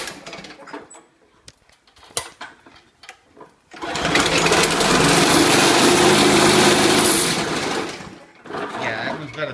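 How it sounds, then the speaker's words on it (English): A Weedeater string trimmer engine with a bent crank fires up loudly and runs at a high, buzzing rev for about five seconds after some quiet handling noises, then cuts out as talk resumes. "Now I'm going to go here to the Weedeater."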